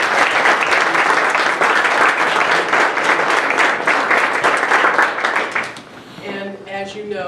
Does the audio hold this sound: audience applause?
yes